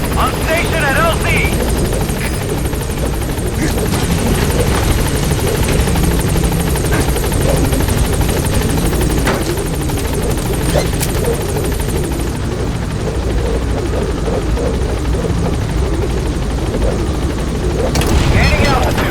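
In the war video game Metal Gear Solid V, a support helicopter thunders continuously with loud rotor chop, while radio voices speak over it and brief booms break through.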